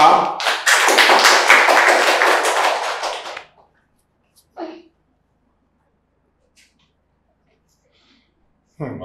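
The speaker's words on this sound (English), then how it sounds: "A round of applause for your teacher." Loud burst of clapping and cheering from a group honoring a teacher, lasting about three seconds, followed by near silence with a couple of faint knocks and a brief sound at the end.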